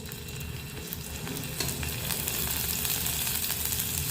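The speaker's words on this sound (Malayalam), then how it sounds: "എണ്ണ ചൂടായിട്ട് വന്നിട്ടുണ്ട്. ഇതിലേക്ക് ഒരു തണ്ട് കറിവേപ്പില ഇട്ട് കൊടുക്കാം. ഇതിലേക്ക് ചെമ്മീൻ വെച്ച് കൊടുക്കാം." Marinated prawns and curry leaves sizzle in hot coconut oil, a steady close, dense frying hiss that swells slightly after the food hits the pan and continues evenly with no talking.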